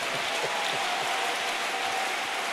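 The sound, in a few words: church congregation applauding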